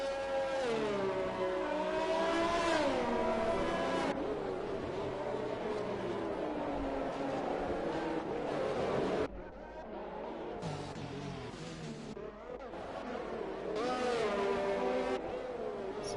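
Race car engines in the F1 2020 video game at the Singapore round, running behind a safety car, drone as a continuous high whine that rises and falls in pitch with revving and shifting, loud and sustained with no speech.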